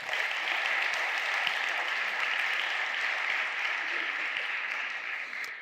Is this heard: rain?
no